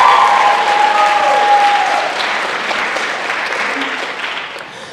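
An audience applauds and cheers at a spring choir concert, giving loud, dense clapping with a short whistle or whoop at the start, then tapering off gradually.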